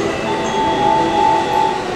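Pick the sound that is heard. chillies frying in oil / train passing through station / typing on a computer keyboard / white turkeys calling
train passing through station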